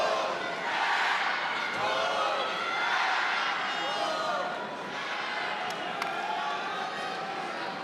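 A steady crowd roar fills Reynolds Coliseum during a tense ACC wrestling championship semifinal, with swelling cheers and shouts running throughout and a commentator's voice woven in.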